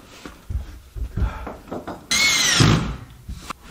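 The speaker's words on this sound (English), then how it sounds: "You hand me the drill." A power drill whirs briefly as it drives a screw into a ceiling during a vapor barrier install, one short burst of motor whine standing out between quiet moments with people talking nearby.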